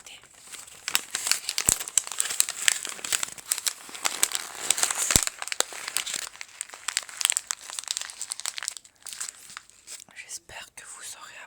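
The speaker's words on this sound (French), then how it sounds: "après avoir découpé la feuille, je vais un petit peu la froisser" Sheet of paper, freshly cut, crumpled close up in a soft ASMR recording, giving dense crinkling and crackling that continues steadily throughout with brief sharper crunches.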